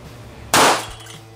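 A single sharp .38 Special +P gunshot from six feet, loud and close, a hard crack that decays quickly into faint ambience.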